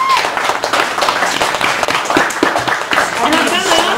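Audience applause for poet Jenene Ravesloot at a Chicago café gallery cabaret, brisk clapping running throughout under the loud voice of a host speaking over it.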